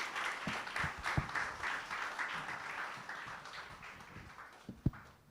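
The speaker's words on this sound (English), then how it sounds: "A round of applause, please." A crowd applauds at a formal International Day of Education ceremony, steady dense clapping filling the room for several seconds with a few sharper claps standing out near the end.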